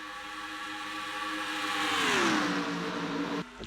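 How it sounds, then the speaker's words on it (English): Stock race cars screaming past on the Michigan oval in a Craftsman series round, a loud engine roar swelling and dropping in pitch as they pass close, then cutting off abruptly near the end. "Listen to these cars here."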